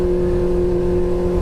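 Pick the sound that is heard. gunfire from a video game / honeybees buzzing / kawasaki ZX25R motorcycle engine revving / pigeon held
kawasaki ZX25R motorcycle engine revving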